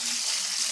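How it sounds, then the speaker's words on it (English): Steady broadband sizzle of a large pork chop frying in a hot pan, a continuous crackling hiss with no talking. "This big pork chop frying up."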